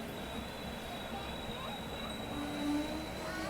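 The Uday Superfast train stands at Samalkot Junction station, and a steady low rumble with a faint whine carries through, fairly quiet and unbroken for a few seconds.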